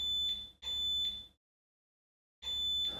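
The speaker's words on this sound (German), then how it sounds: "beim Verlassen des Fahrzeuges schärft sich das Alarmsystem über den werkseitigen Schlüssel." A VW T6.1 van's alarm system arms with its factory key, giving a loud, high electronic beep in two quick bursts, then a pause of about a second before a third beep starts.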